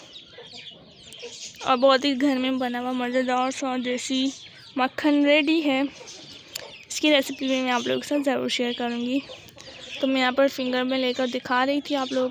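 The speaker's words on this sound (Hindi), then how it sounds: "मेरे व्लॉग में बैकग्राउंड में पीछे से मुर्गी की भी बहुत ज़्यादा आवाज़ें आ" Chickens cluck repeatedly in the background on a rooftop while someone talks steadily over them in the foreground.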